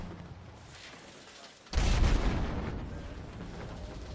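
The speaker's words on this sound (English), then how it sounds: "Airstrike coming." A video game airstrike lands in a single sudden, loud, booming blast that rumbles on and slowly fades, following a stretch of quieter background noise.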